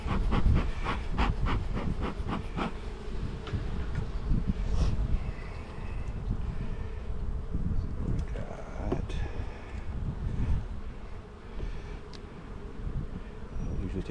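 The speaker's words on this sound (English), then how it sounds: "Good amount of bees here at the top." Bees hum steadily at close range across the top of a beehive opened for its first spring inspection, a dense continuous drone with frame and handling noises mixed in.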